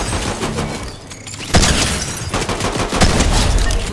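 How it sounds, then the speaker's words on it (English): Shotgun gunfire in the Fortnite video game rattles out in dense, loud bursts with sharp blasts and crackling impacts, easing briefly before a heavy volley resumes. "Get out that shotgun."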